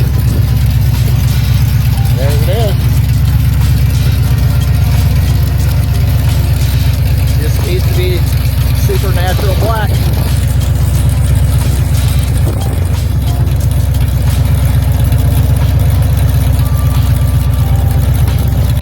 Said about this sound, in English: And needs exhaust. Running open headers right now.